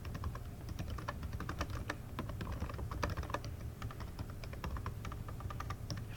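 Steady, quick keystrokes on a computer keyboard patter close by for several seconds under a faint background hiss, with no voices.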